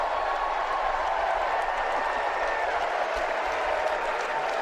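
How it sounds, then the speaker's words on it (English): A large crowd cheers and applauds steadily, a dense sustained roar heard from a distance with a voice mixed in faintly. "There's a lot of cheering."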